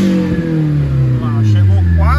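A VW Gol Turbo engine revs up toward nearly 7000 rpm, its loud, close pitch sweeping steadily upward and then falling, while a voice talks over it.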